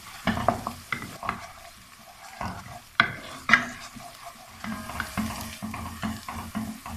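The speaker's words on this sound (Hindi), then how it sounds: "अदरक लहसुन को थोड़ा सा ब्राउन होने तक हम इसको फ्राई कर लेंगे।" Ginger garlic paste fries with onion in a pan, giving a soft constant sizzle under repeated close scrapes and taps of a stirring spoon against the metal, with no talking.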